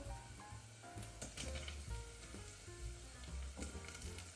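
Potatoes tipped into a pan of frying pork fat and onion for kulish, a steady close sizzle with scattered soft knocks and stirring scrapes, no talking.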